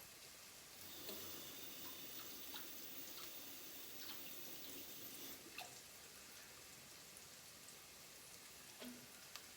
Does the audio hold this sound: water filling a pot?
yes